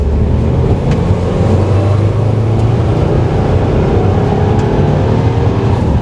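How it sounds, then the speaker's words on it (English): A 2020 Subaru WRX Limited pulls hard in third gear up to 60 mph, its engine note a steady, loud drone that rises smoothly across several seconds, heard from inside the cabin with no talking. "that was a little 3rd gear pull to 60"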